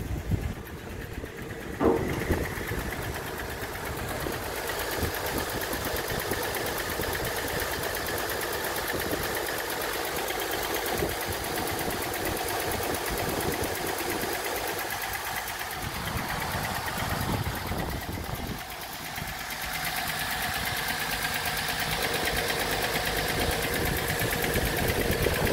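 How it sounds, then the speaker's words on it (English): A 1940 Chevrolet Master Deluxe Business Coupe engine idling smoothly by a lake, a steady even running hum with no ticking, partly masked by wind buffeting the microphone. "let me get a shot of the engine running"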